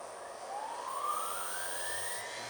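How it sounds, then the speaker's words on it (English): A CNC machine spindle starts up with a rising electric whine that climbs steadily in pitch over a couple of seconds, then settles into a steady high hum; clear and close with no talking. "So I can start my spindle."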